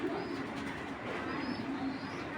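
A large female pigeon of the military feather breed gives soft low coos, close by, over a constant noisy background of other birds and room sound, with no talking.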